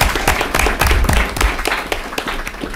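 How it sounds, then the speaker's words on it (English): Dense, steady applause from an audience at a school board meeting, many hands clapping at once in a continuous crackling wash that stays loud throughout with no speech over it. "Can we get a round of applause for our folks?"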